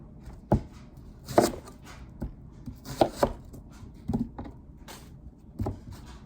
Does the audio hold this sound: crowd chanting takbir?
no